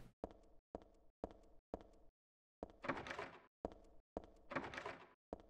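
Repeated rattling of a locked door handle in the horror game Silent Hill 3, a series of short evenly spaced clunks, then a pause followed by a few harsher, noisier jiggles, close and isolated.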